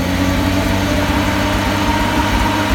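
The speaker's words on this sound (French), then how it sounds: "Vas-y Francky, accélère un peu." Alfa Romeo 2600 engine with Weber carburettors running close and loud, a steady dense engine roar held without any clear rise or fall.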